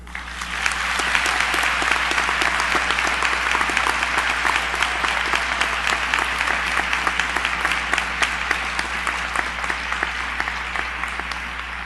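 An audience at a university graduation ceremony applauds steadily and densely for the graduates' parents and families, loud, sustained clapping from a large crowd with faint cheering mixed in.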